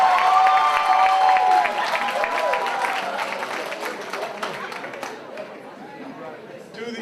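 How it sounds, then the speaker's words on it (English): Audience applause and cheering at a public event, loud at first and gradually tapering off over several seconds, with murmured crowd chatter mixed in. "Let's give him a big round of applause, Dr. Pollard."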